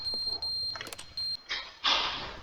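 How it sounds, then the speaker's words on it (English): Repeated high electronic beeps from The Stanley Parable Ultra Deluxe pulse in short evenly spaced bursts, followed by a rising mechanical whoosh and rumble. "This beeping's annoying."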